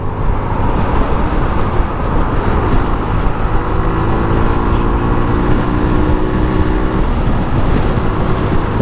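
Traffic on an expressway heard from inside a moving car, a loud continuous rumble of engine and road noise with a steady drone and no talking.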